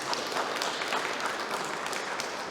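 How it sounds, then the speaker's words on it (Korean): Applause from a church congregation during a Korean Sunday worship service, steady dense clapping filling the whole stretch at moderate level with no talk over it. "우리 박수로 한번 격려해 주시겠습니다."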